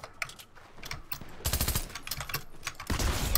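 Rapid bursts of SMG gunfire in a Fortnite match, loud crackling volleys fired in several clusters with short pauses between, the densest stretches in the middle and at the end.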